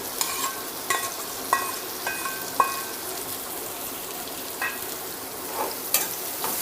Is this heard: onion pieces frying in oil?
yes